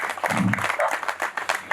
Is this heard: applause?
yes